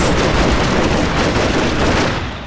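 Dense, continuous gunfire crackles and rumbles in a Total War: Fall of the Samurai battle, massed rifle volleys and rapid shots blending into a loud, unbroken barrage that fades slightly at the end.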